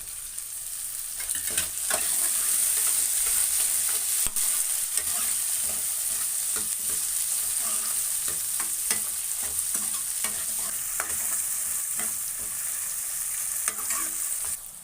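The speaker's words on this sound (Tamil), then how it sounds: "தக்காளி போட்டுக்கிறோம்." Chopped tomatoes and onions fry in a pan, sizzling steadily and loudly for a long stretch while a spoon stirs and scrapes in frequent irregular strokes, with no talking.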